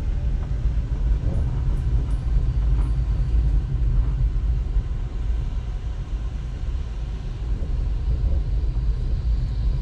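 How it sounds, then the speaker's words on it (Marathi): Cabin sound of a Hyundai Santro on a test drive: a continuous low engine and road rumble, steady and close, with no talking. "सो आता जे टेस्ट ड्राईव्ह घेतो आहे ती आहे ह्युंडाईची सँट्रो"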